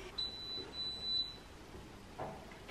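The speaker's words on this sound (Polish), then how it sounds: "Pojawił się sygnał dźwiękowy, stacja jest gotowa do pracy." A Philips steam generator gives its ready signal, a few thin high electronic beeps close together near the start, fairly faint over a quiet room.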